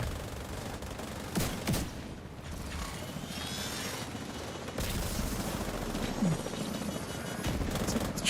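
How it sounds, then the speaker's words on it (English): Helicopters approach during combat in the video game The Division, a steady rotor drone building slowly under scattered gunfire bursts and mechanical clatter. "Choppers on this side already."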